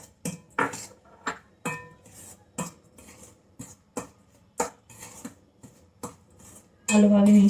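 Cake batter with oil being mixed in a bowl, with a spoon knocking against the bowl in regular, distinct strikes about every half second, close and fairly loud, followed by a brief loud burst at the end.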